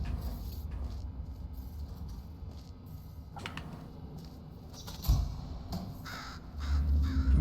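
A crow caws in the video game Portal Stories: Mel, a few raspy calls standing out over a low ambient game hum, with a louder burst near the end.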